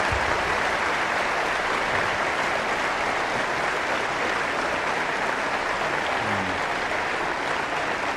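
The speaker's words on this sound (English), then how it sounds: "I would like to suggest we give them a rousing hand of applause for a job well done." Sustained, dense applause from a large audience fills a meeting hall at the 1994 Berkshire Hathaway annual meeting, steady and loud throughout with no speech over it.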